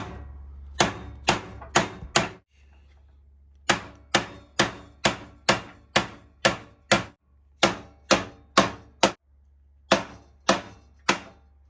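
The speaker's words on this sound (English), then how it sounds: "I grabbed the biggest hammer that I can because I want it to take as few blows as" Sharp metallic hammer blows from a big hammer seating a bearing during a Jeep torque converter install, struck in quick rhythmic bursts of three to five, close and loud, with short pauses and a low hum between groups.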